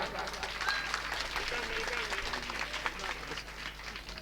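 Scattered, fairly faint clapping from a gathered crowd at a mushaira poetry event in Medniganj, with voices murmuring underneath.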